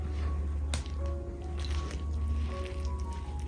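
Maida dough for porotta is kneaded by hand with water, giving wet squishing and soft slapping noises close up over a steady background hum, with one sharp click.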